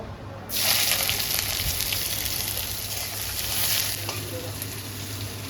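Chopped onions dropped into hot oil with fresh bay leaves for a mango chicken curry set off a loud, steady sizzle that bursts in after a brief pause and keeps hissing close up, with no talking.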